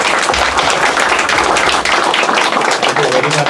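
An audience applauds after a lecture, dense continuous clapping filling the room for several seconds, with a voice faintly underneath.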